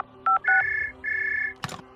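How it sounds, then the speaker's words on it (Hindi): A telephone is dialed: a quick series of clear keypad tones, each a short steady beep with brief gaps, followed by a short burst of handset noise; no one speaks. "किरण देवी ने एसपी शेखावत को फोन मिला दिया।"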